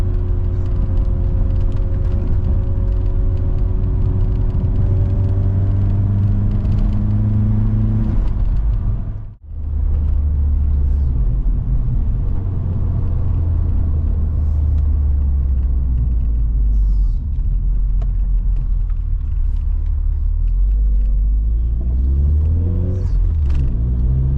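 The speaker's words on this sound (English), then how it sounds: "Such good fun, this car." A car engine drones steadily while driving, with low rumbling road noise and shifting revs; a brief dropout interrupts midway.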